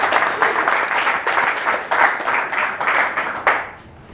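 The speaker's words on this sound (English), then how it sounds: "if we can please give a round of applause to Affirmative Speaker 1 to start" Audience applause at a Toastmasters debate on Christmas decorating, a steady burst of dense clapping filling the room for about four seconds before tapering off at the end.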